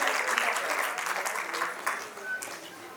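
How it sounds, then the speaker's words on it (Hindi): A crowd claps continuously for a few seconds at a women's empowerment welcome event, a dense patter of applause with a voice faintly audible underneath. "तो तालियों के साथ आप भी शामिल हो सकते हैं इस स्वागत में।"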